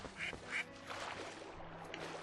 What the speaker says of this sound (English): it sounded like a duck